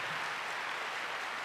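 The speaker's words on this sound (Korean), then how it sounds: "뜨거운 박수로 보내주시면 감사하겠습니다" Faint, distant applause from a congregation at Cheon Bok Gung for a choir, a soft, even wash of clapping lasting only a moment with no voices over it.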